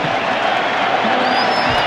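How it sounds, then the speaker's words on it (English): Stadium crowd at a 2000 Big East college football game, Virginia Tech at West Virginia, roaring on a third-and-8 play: a steady, loud, dense wash of cheering voices with no pauses. "We'll let you listen to the crowd here for 3rd and 8."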